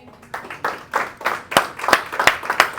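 A church congregation claps in a loose rhythmic pattern, about a dozen distinct sharp claps building slightly in pace over a few seconds, moderately close.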